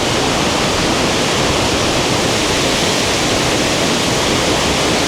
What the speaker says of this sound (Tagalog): Andito na tayo sa Balentimol Falls, dito sa Hunduan.